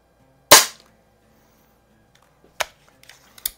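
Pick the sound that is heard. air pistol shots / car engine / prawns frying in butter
air pistol shots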